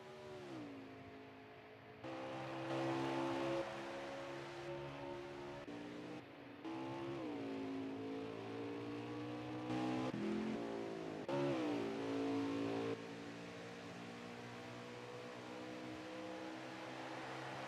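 NASCAR race car engines in NASCAR Heat 5 at Road America, a loud, close, continuous engine roar rising and falling through gear shifts as the car climbs the hill, with several revving surges and changes of pitch.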